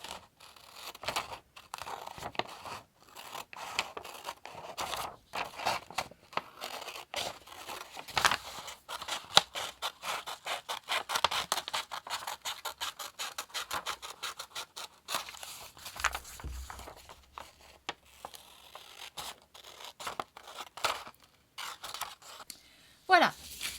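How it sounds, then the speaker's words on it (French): Scissors snip through several sheets of paper while a notebook is being made, giving a long run of quick, dry cutting strokes and rustles at close range, fairly quiet and irregular in rhythm, with no talk over it. "Voilà, j'ai découpé mes feuilles"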